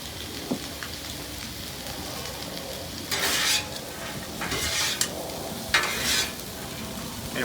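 Shrimp and chicken fried rice sizzles on a Blackstone griddle under a steady hiss, broken by several loud bursts of scraping and stirring from a spatula.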